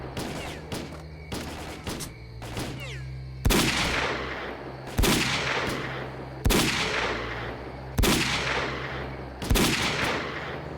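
Gunfire in S.T.A.L.K.E.R.: a few quick sharp shots open, then five heavy, booming reports land about every second and a half, each trailing off in a long echoing decay.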